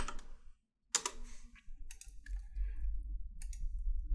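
Sharp computer mouse clicks ring out while folders are made in HitFilm Express editing software, several separate crisp clicks with short pauses between them in an otherwise quiet room.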